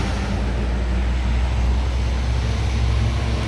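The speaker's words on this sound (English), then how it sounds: "Let's wait for this truck to go by." A truck on a nearby road produces a steady, loud roar of engine and tire noise that stays level and fills the whole stretch.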